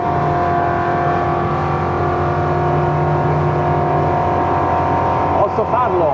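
A superRIB 27 motorboat engine at full throttle, a loud, steady high-revving drone held throughout with a brief shift near the end.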